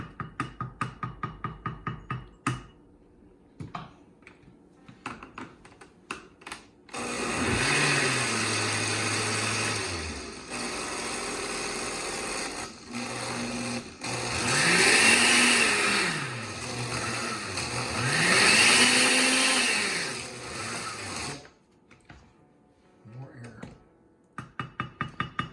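A blender whirs through poblano sauce, its motor whine rising and falling in pitch in long surging cycles for about fourteen seconds, with a person talking before and after it runs.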